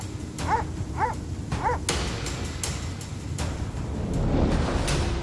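Large shepherd dogs guarding a flock bark in a short rhythmic series of three, followed by more scattered barks and sharp yips outdoors against steady wind and ambient noise.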